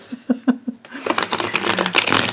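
A few soft taps, then a rapid riffling flutter as a deck of tarot cards is shuffled up close.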